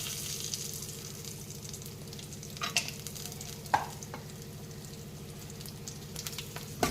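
Cashews fry in oil in a pan for temple-style pongal, a soft continuous sizzle with occasional spatula scrapes and small pops, close but fairly quiet, with no talk.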